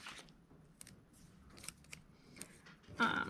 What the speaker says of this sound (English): Let me just trim them a little bit.